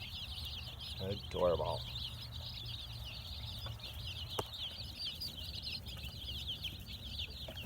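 Chicks on a farm chirp in a continuous, high-pitched chorus, with a brief louder cluck-like call near the start and a short word spoken quietly over the birds.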